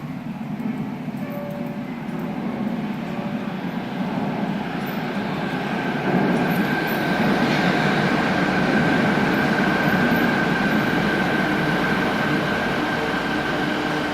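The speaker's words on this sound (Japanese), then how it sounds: "まもなく1番乗り場に天神南行き電車が到着します。" A Fukuoka City Subway Nanakuma Line train pulls into Ropponmatsu station with a steady, rising rumble and roar that grows louder past the midpoint, with a faint tonal whine above it and no voices.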